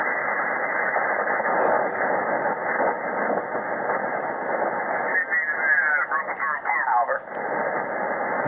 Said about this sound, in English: I think he's working a Italian station by the sounds of it